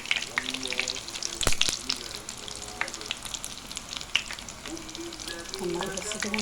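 Cauliflower florets frying in plenty of hot oil, a steady close crackling sizzle with bursts of popping and occasional clinks of stirring, no talk over it.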